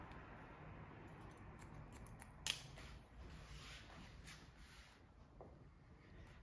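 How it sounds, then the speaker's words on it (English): Scissors point cutting short men's hair, faint quick snips in uneven bursts against quiet room tone, with one sharper snip partway through. "You can see I'm just point cutting into that."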